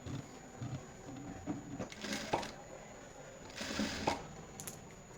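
A sewing machine stitches the shoulder seam of a woollen kurti in short, quiet whirring runs, separated by brief pauses and soft handling clicks, with no one speaking.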